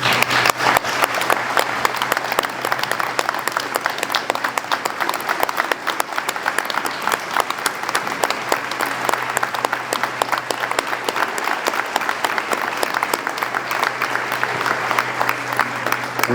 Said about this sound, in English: So I think I'm going to stand to clap for you